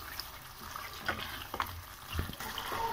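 Biryani masala roasting in a pan on the stove, a soft steady sizzle of frying spices with a few light stirring scrapes and clinks, low in level and heard on its own.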